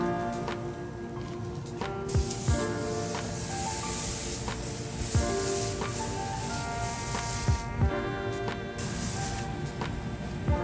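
A steady hissing spray from a pressure washer cleaning very dirty pavers and a driveway runs throughout, loud and close, with a motor hum underneath and occasional clicks and knocks.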